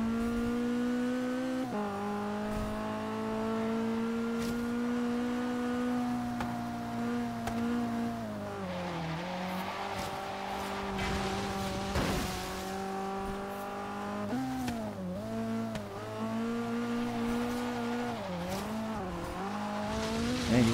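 A Datsun 510 races and corners in the Forza Horizon driving game, its engine droning loudly and steadily with pitch dipping and rising through turns and gear changes, plus bursts of tire squeal, continuous throughout.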